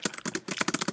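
Rapid, close keyboard key presses, a spacebar struck repeatedly in quick uneven bursts with short gaps between clusters, loud and dry.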